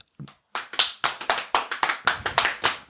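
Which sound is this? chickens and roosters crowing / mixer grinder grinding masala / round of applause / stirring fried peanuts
round of applause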